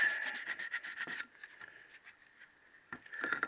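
Worn 1000 grit paper rubbing carbon off a Triumph T120R engine part, quick close scratchy back-and-forth strokes, a quieter lull, then another short burst of sanding.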